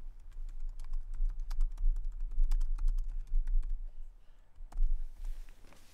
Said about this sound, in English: maybe somebody has a question in the chat room. I'll type it down.